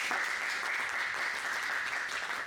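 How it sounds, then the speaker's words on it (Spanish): Steady applause from an audience, a dense even wash of clapping that holds without a break from start to finish. "Un aplauso, por favor, Naisa."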